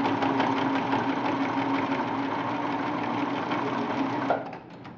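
Sewing machine stitching a necklace seam at about a quarter inch, a loud, fast, steady whir running continuously, then slowing and stopping near the end.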